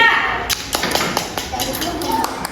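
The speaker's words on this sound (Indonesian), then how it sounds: "tepuk tangan untuk kelompok 3." Schoolchildren in a third-grade primary classroom clap for a student group, a short burst of scattered, uneven hand claps heard up close with children's voices chattering over and around it.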